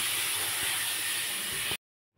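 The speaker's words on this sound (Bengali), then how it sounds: "তো এবার আমি ধুয়ে রাখা চালটা দিয়ে দিলাম।" Washed, unsoaked Gobindobhog rice tossed into a hot pan for basanti pulao gives a loud, steady steamy hiss for nearly two seconds before it cuts off abruptly into silence.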